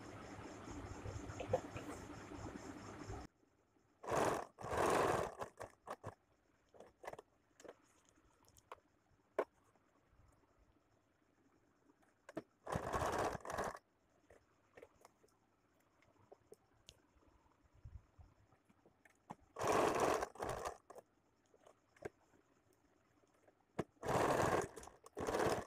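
A sewing machine stitches nighty fabric in four short, loud bursts separated by long quiet pauses with only faint handling noise.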